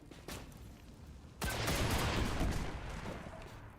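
A sudden burst of loud, dense missile explosions in the video game Singularity erupts partway through, a crackling barrage of blasts and gunfire-like booms that sustains before slowly easing off.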